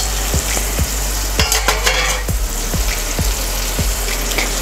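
Tomatoes softening in a pan for Gujarati sev tameta shaak sizzle loudly and close, with about eight regular spoon taps against the pan over a bubbling fry.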